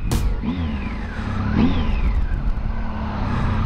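2016 Triumph Speed Triple S motorcycle engine, close and loud, revving up twice in sweeping rises and falls before settling into a steady throaty run.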